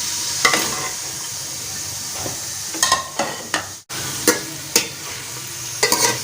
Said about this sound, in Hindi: इसमें अभी प्याज डाल रहे हैं, तकरीबन 2 से 3 अदद प्याज और तकरीबन 3 ही जो है ना टमाटर।